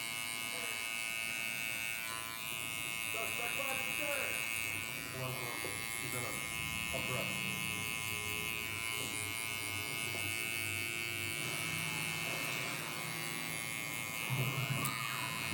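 Babyliss SnapFX electric hair clipper cutting hair during a burst fade, with a steady close buzzing hum throughout and someone talking over it.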